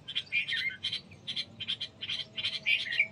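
A young bulbul chick chirps at its nest in a rapid series of thin, high cheeps, repeated in irregular bursts, soft and close.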